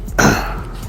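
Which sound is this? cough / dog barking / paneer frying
cough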